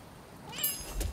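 A cat meows in the video game Rise of the Ronin, a short clear cry near the end of a quiet moment with no talk.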